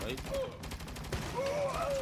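Rapid gunfire bursts from the video game Saints Row crackle through a dense, busy game mix, with a voice talking over the shooting.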